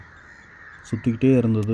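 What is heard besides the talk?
crows cawing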